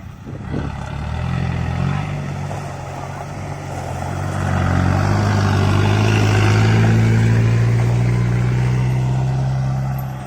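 A loaded six-wheel truck towing a trailer pulls out from a dumping site where crushed rock is tipped, its mid-pitched engine rumbling and building louder over ten seconds, with strong wind buffeting throughout.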